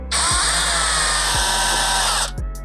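A power driver spins out T25 Torx screws from the air deflector on a 2015-2024 Harley Road Glide, a loud, sustained high whine for about two seconds, close up.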